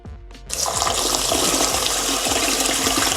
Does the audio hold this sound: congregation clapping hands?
no